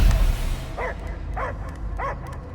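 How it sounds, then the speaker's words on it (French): A dog in the video game Marvel's Guardians of the Galaxy gives three evenly spaced, mid-distance barks over a steady low game ambience. "J'entends que des aboiements."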